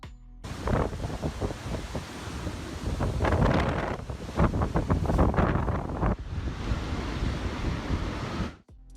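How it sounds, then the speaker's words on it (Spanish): Typhoon Jebi's storm winds and large waves striking the southeast coast of Japan, a loud continuous roar of wind buffeting the microphone with crashing surf surging through it, sustained for several seconds before cutting off abruptly. "el tifón Jebi también provocó olas colosales que azotaron la costa del sureste de Japón"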